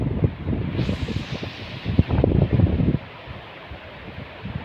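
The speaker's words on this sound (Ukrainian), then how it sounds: "Итак, ветер. вітер." Gusty wind buffets the microphone on a rafting trip down the Chornyi Cheremosh river, with low rumbling bursts and rustle, stronger in the first three seconds, then easing to a steadier, quieter blow.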